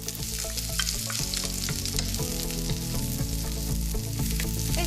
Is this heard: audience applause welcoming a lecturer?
no